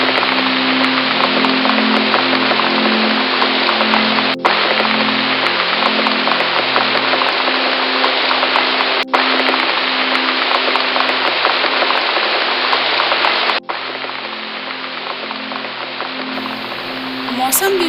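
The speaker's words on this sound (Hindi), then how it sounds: "दिन ढलते ढलते बारिश शुरू हो गई।" Steady rain falls evenly and loudly in an Indian forest as wind picks up ahead of a cyclone, a continuous close hiss with a few brief dropouts.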